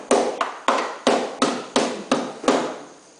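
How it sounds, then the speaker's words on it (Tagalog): A hammer strikes seven times in a fairly even rhythm, each blow a sharp, close, loud knock that fades quickly before the next, with no talk over it. "Pinukpok na. Ginawa ng martilyo."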